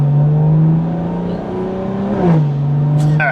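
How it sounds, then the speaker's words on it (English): Exhaust of an xHP-tuned car accelerating, a loud droning tone that climbs, drops sharply as a gear shifts up, then climbs again, heard close through an open window. "let me see if I can wind the window down so you can hear the exhaust"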